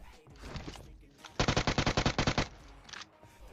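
Automatic gunfire in PUBG Mobile, a burst of about a dozen rapid evenly spaced shots, loud and close, with a voice talking before it and a fainter shot near the end.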